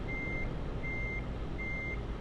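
In Euro Truck Simulator 2, a vehicle backing up sounds three evenly spaced reversing beeps, fairly faint, over a low, steady engine rumble.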